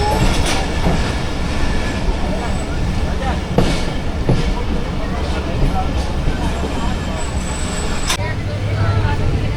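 The Rehman Baba Express, hauled by a ZCU30 locomotive, speeds through a platform with a loud, continuous rumble and clatter of wheels on rails, while someone talks over it.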